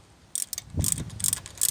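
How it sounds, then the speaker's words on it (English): A 14mm socket ratchet tightens a bolt on a heavy-duty motorcycle lifting jack: a few quick, bright ratcheting clicks in short bursts, close and fairly quiet, with no talk. "with a 14mm socket,"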